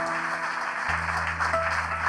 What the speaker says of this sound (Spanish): Y que suenen las palmas